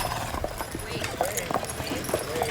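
A person imitates horse noises, with clip-clop-like clicking and short whinny-like calls repeating over a noisy background for a couple of seconds, while other voices are faintly present.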